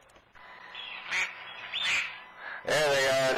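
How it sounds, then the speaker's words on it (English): Ducks quack repeatedly outdoors around Canton, Ohio, a string of nasal calls that grows louder and denser toward the end, fairly close to the recorder with no talking over them. "There they are, there's them ducks."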